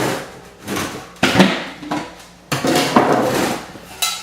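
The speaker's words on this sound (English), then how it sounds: "So you are opening the drywall mud bucket, correct?" A plastic drywall mud bucket is opened with a series of sharp knocks and pops as the lid is pried loose, close and fairly loud, in uneven bursts with short gaps.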